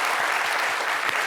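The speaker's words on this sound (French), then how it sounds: "Il faut applaudir encore" Sustained applause from an audience at a talent show, a steady dense wash of clapping that stays loud and even from start to end.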